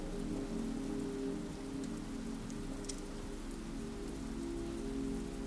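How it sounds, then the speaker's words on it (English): Steady rain pours onto a surface in a continuous, even hiss with no voices, holding the same level throughout. "So let the rain keep going."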